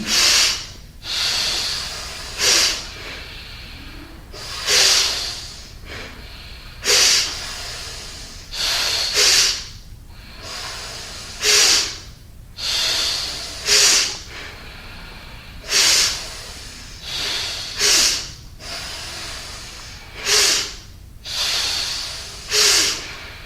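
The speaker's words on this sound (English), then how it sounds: "start breathing long and the fast breathing both into the belly and the chest" Rhythmic, forceful breaths through the nose during Kundalini meditation, drawn into the belly and chest, with sharp snort-like exhales repeating at a steady pace throughout, loud and close.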